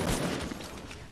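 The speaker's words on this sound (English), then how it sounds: "Someone's sniping from a distance, too." Sniper rifle gunfire in the Fortnite video game, a dense, loud burst of game gunfire and action noise filling the whole moment without a break.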